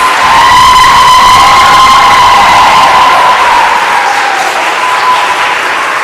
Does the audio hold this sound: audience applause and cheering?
yes